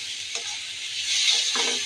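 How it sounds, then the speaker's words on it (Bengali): Onions and green chillies fry in a pan, a close, steady hiss of sizzling oil with a couple of soft stirring scrapes. "এদিকে পেঁয়াজ কাঁচামরিচ আমি ভেজে নিচ্ছি"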